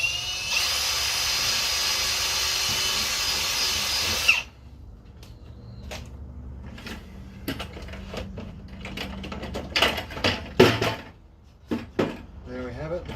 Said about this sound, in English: I'm going to drill a drainage hole.